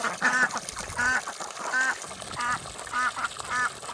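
Grown domestic ducks, a flock of drakes and females, quack loudly and close by in a regular series of repeated honking calls with short gaps between them.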